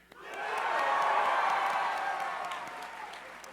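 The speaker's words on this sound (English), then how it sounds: "That was way too much applause." A packed crowd at a PAX East panel breaks into loud, sustained applause with cheers and whoops, swelling quickly and then slowly fading.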